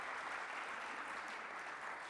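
A room full of people at a climate change forum gives a dense, even round of applause for the panel, continuous throughout.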